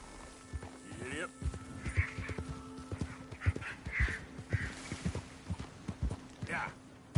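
A horse in Red Dead Redemption 2 runs in steady rhythmic hoofbeats, close and fairly loud, with a voice speaking over the galloping.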